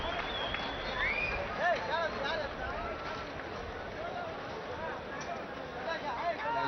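Cricket crowd at a one-day international roaring steadily as the players come back out, a broad continuous wash of cheering and babble, with commentary voices over it.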